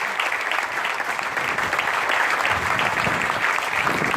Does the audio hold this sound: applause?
yes